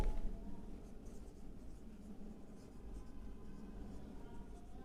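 Chalk or marker scratching across a board during a physics lesson, a steady faint scraping texture over low room hum, with no voice heard.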